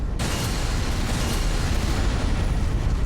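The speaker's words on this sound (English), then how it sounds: "you can just react to those explosions?" Rumbling explosion blasts from the video game Elden Ring, a sustained loud, dense roar of booming detonations that fills the whole clip without pause.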